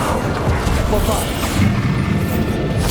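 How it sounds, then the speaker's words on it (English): A Bombarda spell exploding in the Hogwarts Legacy game, a loud rumbling boom with crashing debris over a continuous dense battle din, close and forceful. "Bombard!"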